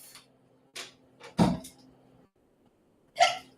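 A person hiccups during a live shopping session in a kitchen, a few short sharp gulping bursts spaced irregularly, close and fairly loud against a quiet background.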